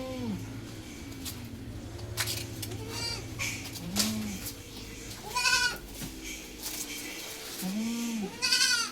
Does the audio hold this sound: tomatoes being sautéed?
no